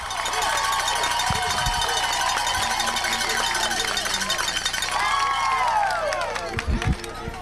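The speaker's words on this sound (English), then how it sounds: "listen to this Newport Greyhound crowd." Home crowd at a Newport Greyhounds high school football game roars and shouts, a sustained cheer with rising voices, while nearby speech carries over it.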